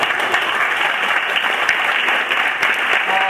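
Audience applause at a talk, steady dense clapping from a crowd filling the whole stretch, loud and continuous without a break.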